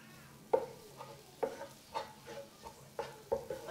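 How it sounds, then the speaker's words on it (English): Serunding with chili frying in a pan, a spatula scraping and stirring in irregular strokes about every half second, each stroke a sharp clatter over a soft, steady sizzle. "So you can keep frying this"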